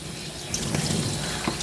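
Running water rinses a Coton de Tulear dog during a grooming bath, a steady close spray and splash with a few brief splatter bursts, loud and continuous.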